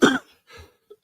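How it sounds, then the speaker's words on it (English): A man with a lingering cold gives one sharp, close cough, followed by a softer throat sound and a brief click after a short pause. "Excuse me one second, I have to cough."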